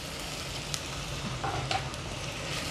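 Diced tomatoes sautéing in a pan for a mutton, broccoli and mushroom soup, a soft steady sizzle with a few light utensil clinks and scrapes, fairly quiet and without speech.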